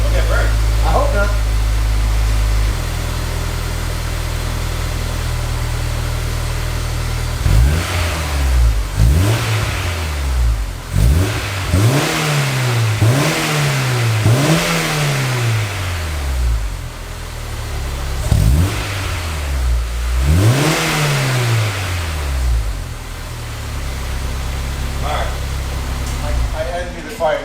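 A Honda S2000 fitted with a Fujitsubo Legalis R exhaust revs repeatedly after a steady idle, its engine note sweeping up and down in a rapid series of blips, loud and close, with a brief pause before a final pair of revs.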